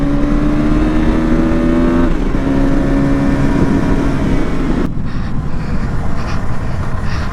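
A KTM Duke 160 motorcycle engine revs up in rising tones, holds, then drops abruptly to a rough idle, close by and alone.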